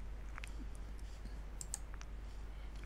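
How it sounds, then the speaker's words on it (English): Computer mouse clicks sound while navigating QGIS menus, a scattering of light, close, dry clicks in a quiet room at low volume. "you right click on it, click on export, save feature as an ESRI shapefile."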